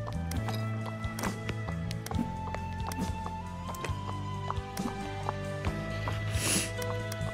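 Horse hooves drumming in a rhythmic gallop in the video game Wild Horse Islands, steady clip-clop footfalls under a looping game music bed with tonal chimes, continuing throughout.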